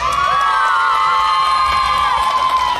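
A crowd at a contest in Ponciano Arriaga cheers and whoops loudly and steadily for a participant, with shrill shouting and whistling held for the whole stretch.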